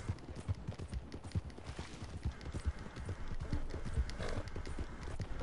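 A horse gallops in the video game Red Dead Redemption 2 on PS4, with fast, even hoofbeats that keep a steady rhythm and sound fairly close throughout.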